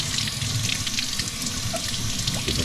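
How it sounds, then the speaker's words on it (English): An eggplant is rinsed under a running kitchen tap, a steady broad splash of water into a sink lasting throughout, fairly close and even in level. "Give it a nice rinse here."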